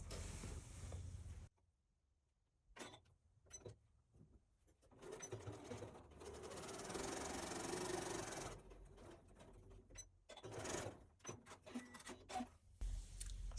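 A sewing machine stitches a quarter square triangle seam for a pincushion, running in bursts with fast steady mechanical whirring and clatter, close, broken by brief pauses and short stop-start runs.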